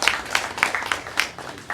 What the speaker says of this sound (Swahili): Kwa hiyo mjipigie makofi akina wataalamu wetu